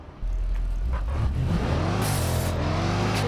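A car engine picks up and revs, its pitch climbing steadily over a few seconds, close and moderately loud with some road and wind noise.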